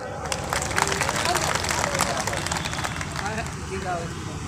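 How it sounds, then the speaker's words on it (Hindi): Audience at a community rights gathering claps steadily for about four seconds, a dense wash of hand claps mixed with crowd murmur, fairly loud and continuous. "जोरदार ताली।"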